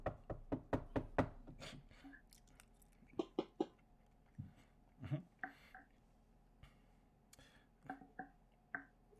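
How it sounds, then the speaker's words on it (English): Knocks on a door come as a quick burst of sharp, close raps, followed by scattered single knocks and bangs against a quiet room background. "you'll hear a bit of a knock at the door"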